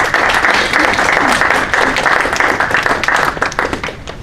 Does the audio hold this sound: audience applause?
yes